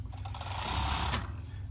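A serger sewing machine runs steadily as it stitches a back seam, giving a loud, dense mechanical whir with a fast rhythmic chatter throughout the short burst.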